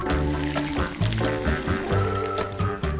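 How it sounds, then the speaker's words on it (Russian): About a litre of water poured into a cooking pot of paella, a gurgling, bubbling pour in uneven surges at close range, with a voice speaking faintly underneath. "сейчас самое время долить воды. Ну, я думаю, примерно литр воды"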